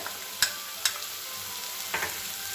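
Ground spices frying with tomato in a kadhai, a steady soft sizzle broken by a few sharp spoon scrapes and clinks as the masala is stirred, close and alone with no talking.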